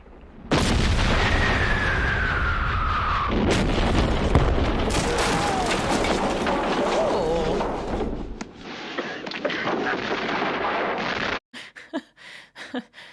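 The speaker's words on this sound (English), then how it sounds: "Saved by the cannon." Loud booming cannon blasts and heavy gunfire roar through a dramatic scene in the western film The Good, the Bad and the Ugly, with a crash and scattered impacts trailing off at the end.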